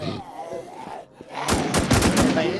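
Rapid gunfire in a shooting video game comes as a dense burst of loud, close shots, cut by a brief lull before the firing resumes and keeps going. A voice is heard faintly at the start.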